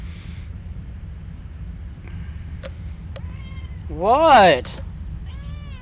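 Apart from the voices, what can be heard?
cat meowing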